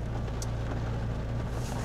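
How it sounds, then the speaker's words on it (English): A Renault Clio engine idles steadily while warming up, a continuous low hum, close and even throughout. "started the engine and the engine warms up"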